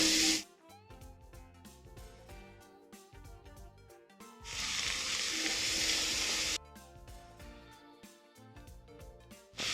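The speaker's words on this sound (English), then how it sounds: "Then we're going to go in with our onions. Give these a good stir." Onions frying in a pan for ossobuco, with steady sizzling and a louder hiss midway as they are stirred, plus scraping and clinking of a utensil against the pan.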